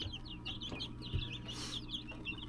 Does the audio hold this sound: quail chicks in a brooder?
yes